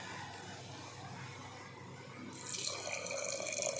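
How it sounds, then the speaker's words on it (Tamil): Coconut milk pours into black kavuni rice porridge, a steady liquid splash that grows fuller and brighter partway through, close and continuous with no talk. "இதை வந்து இப்போ இந்த கஞ்சியில் ஊற்றலாம்"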